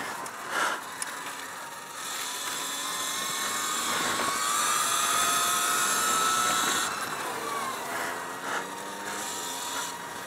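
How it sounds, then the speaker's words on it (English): A Sur Ron Light Bee electric dirt bike rides on an asphalt kart track, giving a steady electric whine that rises and falls with throttle, accompanied by wind and road noise. "Bike is running great."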